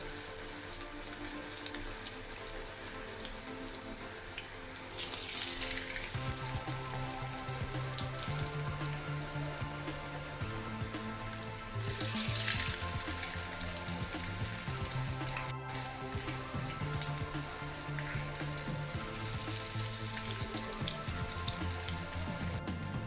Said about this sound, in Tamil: அப்போ தான் இந்த வடை நல்லா பொரியும்.